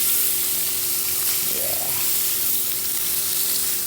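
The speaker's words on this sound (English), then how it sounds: "And you got to hear that sizzle." A steak fries in a pan on a stovetop with a steady, dense sizzle that stays loud and close throughout, and a brief voice cuts in once.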